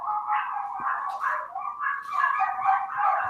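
Several household dogs bark and yip excitedly without letup, fairly close, a continuous agitated chorus with no talk over it.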